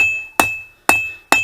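Three sharp, ringing hammer blows on cold mild steel, struck about half a second apart for a hold-down tool, each loud and close with a metallic decay.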